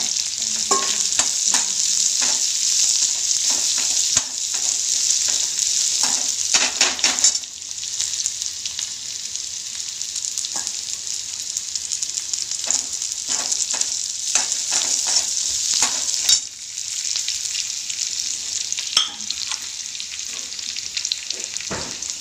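Chopped onion sizzles steadily in a hot pan, with repeated scraping and stirring strokes close by and no voices.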